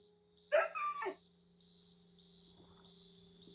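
A dog in a video game gives a short bark or yip, one brief burst, heard over a steady electronic hum with faint soft noises afterward.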